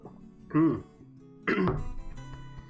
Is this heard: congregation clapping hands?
no